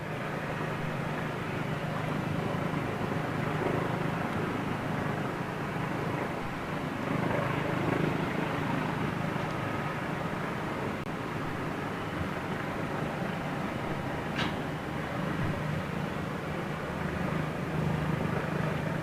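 An unmarked Eurowings jet airliner passes overhead, a broad, steady engine roar that holds level throughout, faint and distant, with soft talk underneath.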